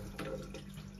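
Liquid drips and trickles off a fish held over a kitchen sink, a soft, brief watery patter heard close by.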